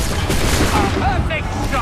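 Gunfire in the video game Assassin's Creed 3, a burst of loud overlapping shots and booms, like a musket volley, with speech-like tones over the noisy blast.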